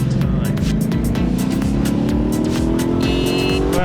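Car engine hum with a throbbing drone and a rising pitch in a parking video game, ending in a collision, with no talk over it.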